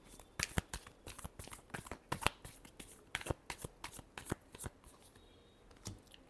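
A deck of tarot cards is shuffled by hand in a quiet room, giving a run of quick, crisp riffling snaps and slaps in irregular bursts, close and fairly soft, with no talking.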